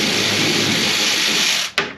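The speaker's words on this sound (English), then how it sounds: "be risky and take it out with a power tool." A power tool spins out the rusty tail light screws on a 2003 Ford F350, a steady loud whirring drone that holds for most of the moment, then cuts off abruptly with a short burst of noise after.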